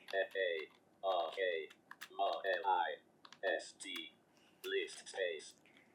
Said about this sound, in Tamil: ஜஸ்ட் நான் வந்து ஒரு மார்க் லிஸ்ட் அப்படின்னு மட்டும் நான் டைப் பண்ணிக்கிறேன்